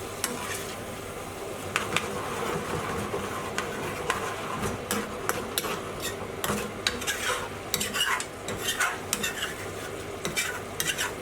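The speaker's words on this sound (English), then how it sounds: "Adding in the coriander quickly and continue to stir and scrape the pan." Curry sauce for a chicken naga bhuna, British Indian restaurant style, is stirred and scraped in a sizzling pan, with steady frying hiss under repeated sharp scrapes of a utensil across the metal. No one speaks.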